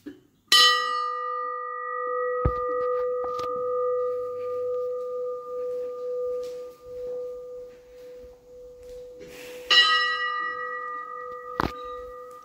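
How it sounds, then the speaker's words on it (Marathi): A large bell in a temple is struck twice, several seconds apart, each strike a bright clang that rings on with a long, sustained hum; a faint knock sounds between the strikes. "घंटा बघा केवढी मोठी आहे."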